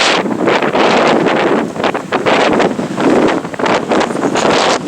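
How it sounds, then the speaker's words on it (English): Strong wind on the Atlantic coast at Doolin, Ireland, beats against the microphone as a loud, steady roar with gusty flutters. Nothing else breaks through it. "Windy"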